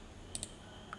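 Computer mouse clicks while a product is added to an online shopping cart, two quick close clicks followed by a single softer one in quiet surroundings.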